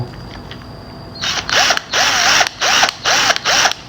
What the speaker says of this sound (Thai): อันนี้เป็นหมุนหมุนน็อตธรรมดา